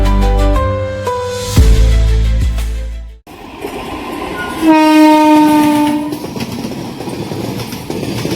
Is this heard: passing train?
yes